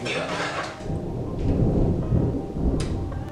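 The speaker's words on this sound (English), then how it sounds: "That's some loud ass thunder. Big old storm coming." Loud, deep thunder from an approaching storm rolls and rumbles continuously through the whole stretch, swelling in the middle, with faint rain-like hiss above it and no talking.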